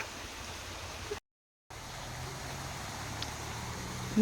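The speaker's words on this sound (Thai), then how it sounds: "น้ำไหล น้ำใสไหล" Clear stream water flowing at Kaeng Krachan, a steady soft broadband rush heard alone, with a brief dropout partway through.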